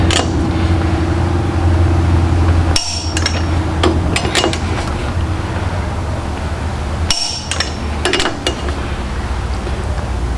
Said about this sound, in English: the metallic pop's the torque wrench